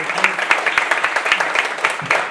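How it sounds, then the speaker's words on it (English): A colloquium audience at the Instituto Cervantes applauds in tribute to its departing director: a loud, dense round of clapping with a faintly regular pulse, sustained throughout with no pause. "a round of applause"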